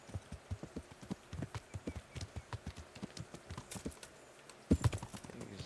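Horse hooves clip-clop in a steady, even rhythm as a horse is ridden in Kingdom Come: Deliverance, moderately close, with a couple of louder heavier footfalls near the end and no talking.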